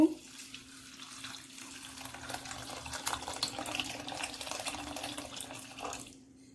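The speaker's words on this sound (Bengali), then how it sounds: "গরম পানি দিয়ে দেব" Hot water is poured into a pot of cleaned chukai (roselle) for sherbet, making a steady splashing, bubbling rush that builds over several seconds and stops abruptly. A low hum runs underneath and no one talks.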